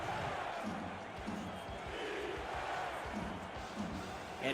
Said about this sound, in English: Crowd still in it.